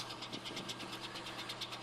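Diesel engines running at a steam fair in Dorset, a steady idling rumble with a repeating knocking pulse, moderately distant and continuous with no talk.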